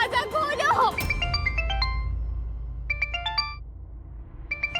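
A phone ringtone plays an electronic melody of bright repeating tones in three bursts, clear and fairly near, following a stretch of speech and low background rumble.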